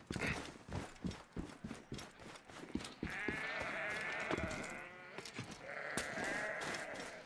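Horse hooves clop in a rapid, uneven rhythm at close range in the Assassin's Creed: Origins video game. After a few seconds they give way to sustained bleating animal cries, and no one speaks.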